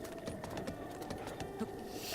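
Horse hooves clip-clopping in a video game, a soft rapid patter of hoofbeats over a low ambient background.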